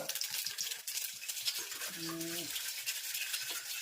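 Mustard seeds and cumin spluttering in hot oil as a tempering for soybean curry, a faint, continuous frying crackle; a short tonal sound briefly rises over it midway.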